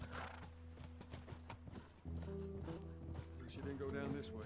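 In The Last of Us, a horse's hooves clip-clop steadily at close range with a short whinny, under game music and people talking.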